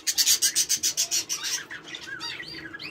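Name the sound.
budgies chirping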